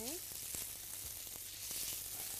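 Salmon fillet, about 70 to 75 grams, sizzles steadily in a hot pan, a close, continuous crackle with a few sharper pops and a faint scrape of stirring.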